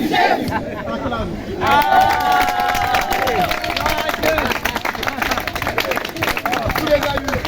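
A street crowd in central Paris at an evangelistic gathering cheers and claps in acclamation, loud shouting voices and rhythmic clapping blending into a sustained roar.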